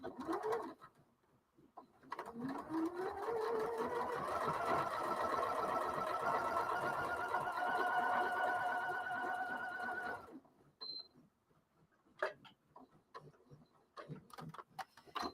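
A sewing machine stitches in the ditch, its motor whirring up and then running as a steady, near hum for about eight seconds. It stops abruptly, leaving a few scattered clicks and taps.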